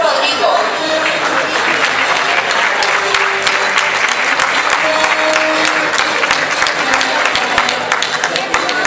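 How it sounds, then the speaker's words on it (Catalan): A crowd at a falla gathering in Valencia gives loud, sustained applause, with dense clapping filling the hall throughout and voices faintly mixed in. "Despedir amb un fort aplaudiment a la falla Filiberto Rodrigo."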